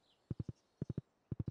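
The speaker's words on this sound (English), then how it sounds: "Let's bring our horse over." A horse's hooves clip-clop in the Stardew Valley video game, three quick evenly spaced triplets of crisp, close hoof knocks separated by short pauses, alone without talk.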